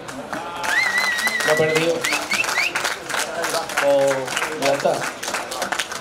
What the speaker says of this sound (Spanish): Un fuerte aplauso para Manuel